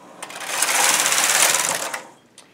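A knitting machine carriage slides along the needle bed during pile knitting, giving a loud, close, rising and falling whirring rattle that lasts about two seconds with a few light clicks at the ends.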